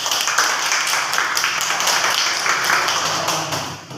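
A classroom of students applauds a presenting group, a dense, steady patter of many hands clapping close by for about four seconds before tapering off slightly at the end.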